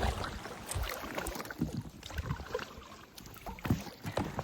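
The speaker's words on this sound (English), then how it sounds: "We're going to paddle into camp today just for a change, just to do something a little bit different." Paddling an inflatable kayak on a calm alpine lake in New Zealand: soft rhythmic paddle strokes and water splashes repeating about every second, close and quiet, with light wind.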